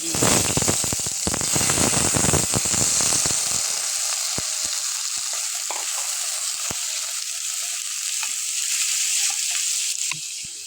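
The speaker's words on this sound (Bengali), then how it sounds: "আমি আলুগুলি লাল লাল করে ভেজে নেব" Potatoes frying in hot oil in a pan, a steady loud sizzle throughout with a busy burst of stirring and crackle at the start that settles into continuous hiss and occasional pops.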